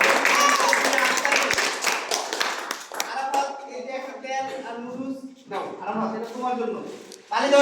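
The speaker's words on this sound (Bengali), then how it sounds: "সবাইকে জোরে হাততালি দাও" A village crowd at a bottle-lifting game applauds the winner with dense, lively clapping for about three seconds. Clapping fades into a spoken voice, with a few scattered claps after.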